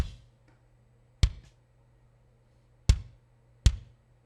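Drum track run through the CLA Drums plugin: three isolated, tight drum hits with sharp attack, gated decay and a touch of reverb, spaced irregularly over a quiet background.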